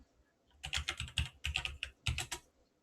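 Computer keyboard keys tapped in two quick bursts while entering a passphrase, close and crisp, with a short pause between runs and no talk.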